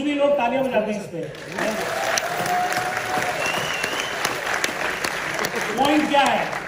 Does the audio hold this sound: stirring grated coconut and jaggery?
no